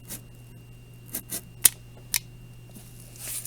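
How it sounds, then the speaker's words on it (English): A box cutter blade punctures and slices through cardboard, giving a few short, crisp scraping cuts and snips that are spaced apart over a low steady hum, fairly close. "puncture just before the line to make sure that I cut all the way through the cardboard"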